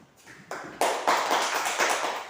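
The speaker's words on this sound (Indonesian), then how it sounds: "tepuk tangan buat Ciko." Students in a classroom clap for a classmate: a few faint taps at first, then a brief burst of close, quiet applause from a small group.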